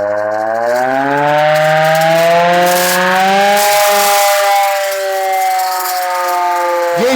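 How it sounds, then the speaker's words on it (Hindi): A locally built civil defense emergency siren in Lahore wails loudly and close up, its tone gliding in a long sustained howl that eases slightly lower before cutting off at the end. "ये हंगामी सायरन जो है वो पड़ा हुआ है। ये देसी स्ट्रक्चर का सायरन है।"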